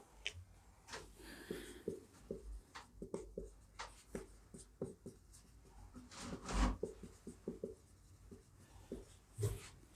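Hand-written numbers scratch softly across paper in short, irregular strokes, with a dog faintly panting and shuffling nearby; quiet, close, with no talking.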